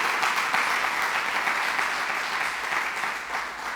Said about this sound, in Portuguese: Você pode dar um aplauso aí, bem bonito.